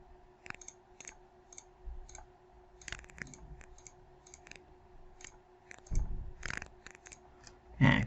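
A computer mouse clicking while assigning materials in 3D modeling software, with sparse, sharp, close clicks spaced irregularly over a faint background hum, and no talking.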